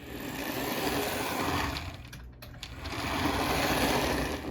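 A freshly wheel-cleaned model locomotive runs along its track with a steady, smooth mechanical whir, moderately loud and continuous, dipping briefly near the middle before resuming.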